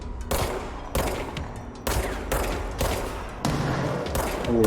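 Enemy gunfire in the video game Control, repeated loud bursts of rapid shots in several separate volleys, each cutting in sharply with short pauses between.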